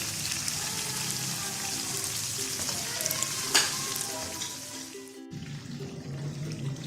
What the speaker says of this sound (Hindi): विंग को मीडियम फ्लेम पे हमने फ्राई करना है ताकि अंदर से भी अच्छी तरह से पक जाए।